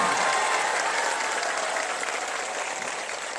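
A large crowd at a political rally in Bihar gives loud, dense applause that continues throughout, a thick wash of many hands clapping at once with a slight fade toward the end.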